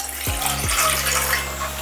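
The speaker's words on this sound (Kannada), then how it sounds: "ನೀರು ಹಾಕಿ" Water pours from a tap into a pot on the stove for making ragi mudde, a steady close rushing stream with a couple of quick knocks near the start.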